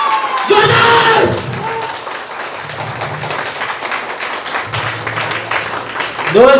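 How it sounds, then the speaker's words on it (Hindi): Audience applause at a Shriveda business programme in a hotel in Bodhgaya: a loud burst of clapping and cheering for about a second, then subsiding under someone speaking over crowd murmur. "जोरदार ताली दोस्तों"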